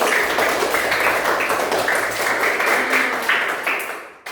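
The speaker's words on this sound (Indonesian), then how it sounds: "Tepuk tangan untuk Billy." Classroom of students clapping for a classmate, a busy burst of many hands applauding together, fairly close and steady before trailing off at the end.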